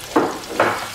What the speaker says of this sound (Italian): sta sfrigolando bene, intanto che facciamo rosolare il nostro aglio e la nostra cipolla